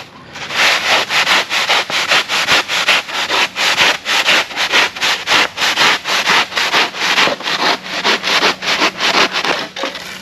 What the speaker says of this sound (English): believe it or not, you can use something as simple as a handsaw